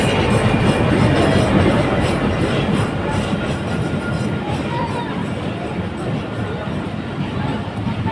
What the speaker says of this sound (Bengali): এটা হচ্ছে মংলা কমিউটার ট্রেন